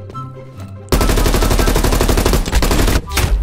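Rapid automatic gunfire in the video game Call of Duty: Cold War, a loud continuous burst of rattling shots after a brief quieter lead-in, with a short break before firing resumes.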